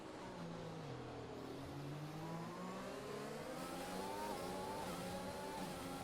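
Race car engine in a sim racing game at the Abu Dhabi circuit during an overtaking attempt, a steady high-pitched whine that climbs and drops through gear changes, continuous and fairly loud.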